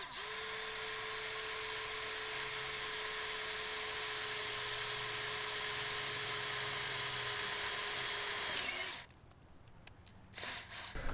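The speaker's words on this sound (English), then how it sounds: "I want to grind away some of the existing fiberglass and re-fiberglass it a little" A power grinder whines steadily at a constant high pitch as it grinds away old boat fiberglass around the stuffing box where the shaft comes through, running loud and close for about nine seconds before cutting off abruptly.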